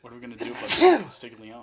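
A loud, close sneeze erupts in the middle of a man's speech, a rising breathy build then a sharp burst before the talking resumes.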